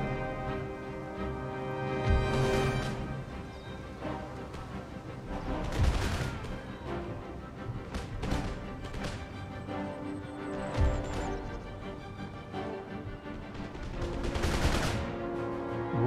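Infantry volley fire in Empire: Total War, a battle with repeated bursts of massed musket shots at irregular intervals over a dense, continuous din of fighting.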